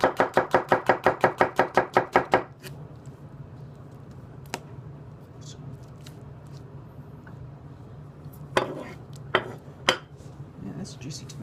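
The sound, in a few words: Sukenari honyaki knife chopping a juicy tomato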